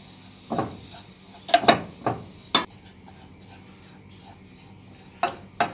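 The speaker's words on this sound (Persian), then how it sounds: "مغز گردو رو کاملا با آرد و کره مخلوط می کنی." Walnuts being mixed into flour and butter for Fuman cookies, heard as several separate scraping, rasping stirs of a utensil against a pan or bowl, with quiet pauses between the strokes.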